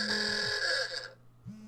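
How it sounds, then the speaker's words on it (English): A loud electronic alarm from a Crusader Kings 3 gameplay session sounds alone, a steady harmonic buzzing tone that cuts off briefly near the end before starting again. "And that was the alarm to end the episode."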